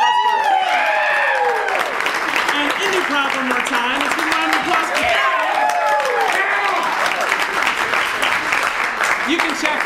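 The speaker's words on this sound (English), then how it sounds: "so let's give a round of applause." Applause from an improv comedy show crowd fills the room continuously, loud and dense clapping with cheers and voices rising through it.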